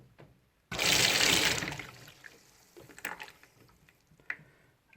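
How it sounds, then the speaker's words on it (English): Water rushes loudly through a Sentinel Eliminator TotalGuard heating system filter as a valve is opened, a sudden burst that gradually eases into quieter trickles and drips. "to let water through the filter"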